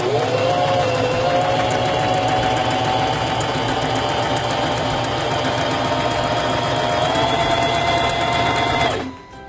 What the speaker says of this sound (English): press your foot control to begin sewing